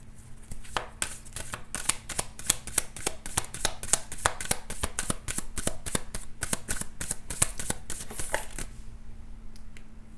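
Tarot cards riffle and snap against one another in a long run of quick, crisp flicks and slaps for several seconds, close by, with no talking, then the deck falls quiet.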